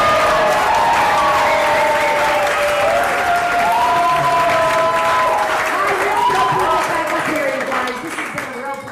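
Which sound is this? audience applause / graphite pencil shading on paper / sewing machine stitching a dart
audience applause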